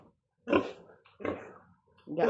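A sow grunts on a farm: three rough, close grunts in a steady rhythm, separated by short quiet gaps.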